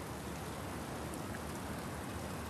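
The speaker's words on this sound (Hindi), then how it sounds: "ये हमारी पहली बारिश है" Steady rain hissing across the whole clip, a dense even wash of drops with no voices and no breaks.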